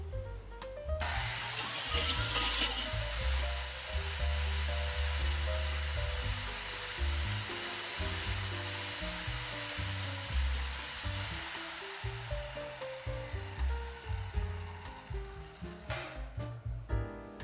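A Mollar MS1200SL 7-inch compact sliding miter saw with a 24-tooth blade spins up and runs free at speed, a steady loud motor whine that holds for about ten seconds before winding down, with no talking.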